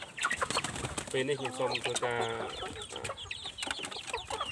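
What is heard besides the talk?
chickens clucking on a farm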